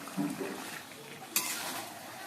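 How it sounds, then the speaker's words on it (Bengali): Chicken stir-fried on a high flame in an uncovered pan gives a soft sizzle with scraping and stirring, a sharp clink of the utensil against the pan midway, close and fairly quiet. "এবার মাংসটা হাই ফ্লেমে রেখে আমি কষিয়ে নেব, আর আমি ঢাকা দেব না।"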